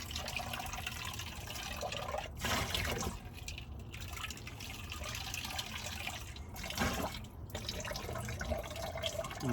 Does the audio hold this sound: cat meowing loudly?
no